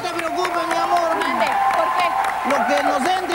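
Studio audience applauding and cheering for a singer on a Univision variety show, a steady crowd roar of clapping and whoops mixed with an emcee's shouting and talk throughout.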